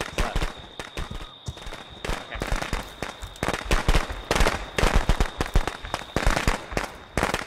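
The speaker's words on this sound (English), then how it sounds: "lay the firecrackers, lay the firecrackers!" Firecrackers crackle in rapid, irregular bursts in Friday the 13th: The Game, a dense string of sharp pops that goes on for several seconds, loud and with no talk.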